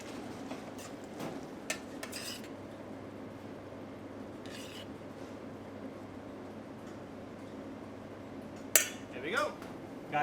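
Utensil stirring a chickpea and kale curry in a pan, soft continuous scraping with occasional clinks against the metal, close but quiet, with a low background hum.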